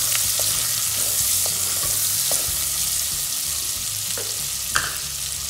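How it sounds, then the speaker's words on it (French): Chopped onion frying in a pan for spaghetti carbonara, a steady close sizzle with faint stirring clicks running throughout and no voices. "Je vais attendre aussi que mon oignon puisse cuire"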